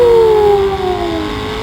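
Dodge Hellcat and Corvette ZR1 accelerating hard side by side in a rolling race, a loud sustained engine whine that sweeps steadily downward in pitch as the cars pull away, with no voices.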